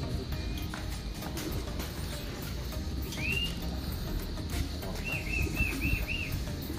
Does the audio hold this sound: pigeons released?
yes